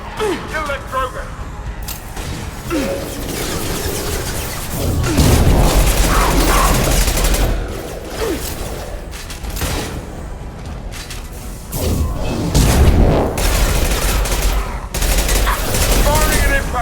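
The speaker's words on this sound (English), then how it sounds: "Firing an impact shot!" Sustained gunfire and heavy impact blasts from the combat video game Mass Effect 2, dense overlapping bursts and booms that swell and fade across the stretch, loud and close, with game voices speaking over the fighting.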